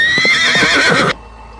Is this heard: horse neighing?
yes